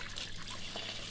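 Rainforest spring water streams from a pump into two containers filling at once, a brief, steady, close trickle.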